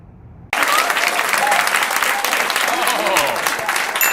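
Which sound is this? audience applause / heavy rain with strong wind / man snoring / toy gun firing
audience applause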